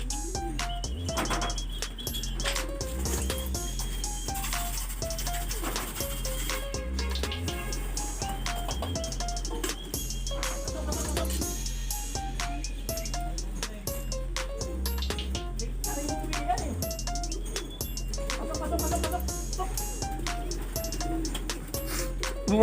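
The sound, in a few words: homing pigeons cooing and flapping at loft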